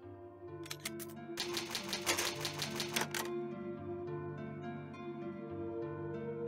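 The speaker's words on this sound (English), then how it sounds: "An old typewriter." An old typewriter clacks out a quick burst of keystrokes, then a second denser flurry, as the game is saved in Resident Evil HD Remaster, over a steady low musical drone that continues after the typing stops.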